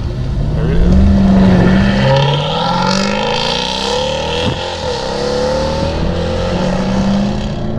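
A 2018 Jaguar F-Type SVR Coupe accelerates hard, its engine roaring loudly and close, rising in pitch through successive gear changes with crackling bursts in between.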